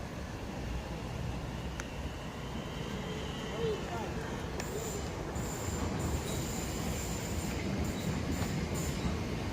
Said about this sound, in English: now getting ready to depart is 2 November 42, the 1507, Southeastern service from London Charing Cross to Gravesend.